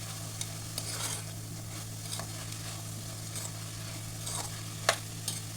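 Vegetables being stirred and sautéed in a pan for upma, a low sizzle over a steady hum, with intermittent scraping strokes and one sharp clink near the end.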